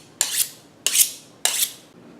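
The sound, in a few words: kitchen knife being sharpened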